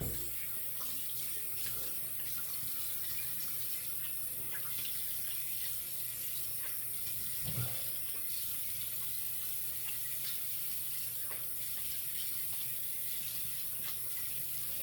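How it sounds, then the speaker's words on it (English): Water from a tap running steadily while a freshly shaved head is rinsed, a continuous even hiss and splash that stays close throughout. "So let me rinse my head here."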